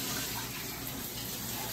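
A hose sprays water to wash down a muddy Great Dane after a trail outing, giving a faint, steady hiss of spray with no talking.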